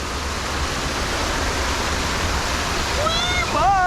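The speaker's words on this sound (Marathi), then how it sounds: "या जागेवर मित्रांनो एक छोटासा वॉटरफॉल आहे" A small waterfall at Khandala Ghat in Maharashtra gives a steady, loud rushing roar that fills the whole stretch, with a brief voice heard near the end.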